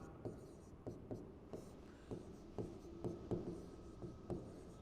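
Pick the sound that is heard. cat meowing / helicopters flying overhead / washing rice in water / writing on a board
writing on a board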